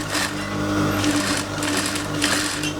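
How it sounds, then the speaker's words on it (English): A sewing machine runs a long seam on a keyhole kaftan dress, making a steady, close, continuous motor hum with fast needle chatter for the whole stretch and no talk over it. "We're going to start sewing from here, from the top all the way down."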